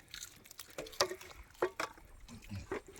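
Rasam soup pours and splashes into a vessel in short bursts, with wet dripping and sloshing sounds close by, out at sea.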